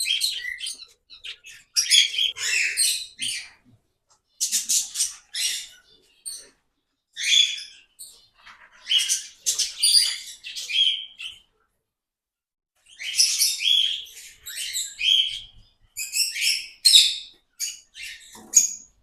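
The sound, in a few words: parrots chirping in an open aviary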